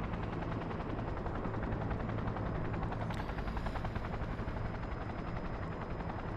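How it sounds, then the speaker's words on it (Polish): Helicopter in the video game Cyberpunk 2077, a loud, close, continuous rotor thump and turbine whine heard from inside the cabin, steady throughout with a brief high whoosh midway. "to jesteśmy w helikopterze"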